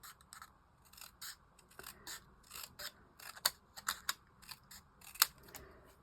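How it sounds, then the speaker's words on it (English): Scissors snip paper for a handmade card, a series of short, crisp cuts in an irregular rhythm, close and fairly quiet, with no talking. "I'm going to cut this down, and I'm just going to snip this."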